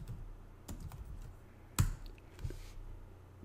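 Computer keyboard typing while entering commands in the Recon-ng reconnaissance tool, a few quiet scattered key clicks with one sharper tap, no voices.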